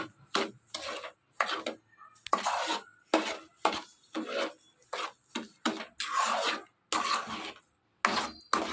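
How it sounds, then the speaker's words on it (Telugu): Milk and sugar being stirred in a pot for palkova, a spoon scraping and rasping against the pot bottom in repeated short strokes, close and fairly quiet with brief pauses between strokes. "ఇదంతా కూడా ఈ పాలు మరిగిన దాంట్లో మిక్స్ అయిపోయేలా బాగా కలుపుకోవాలి"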